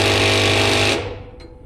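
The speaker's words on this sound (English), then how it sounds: "After some precision machining with the Sawzall, it's ready to go." Sawzall reciprocating saw cutting a part for a CJ-3B Jeep, a loud, harsh, rapid buzzing rattle up close that stops abruptly after about a second, followed by a faint clink.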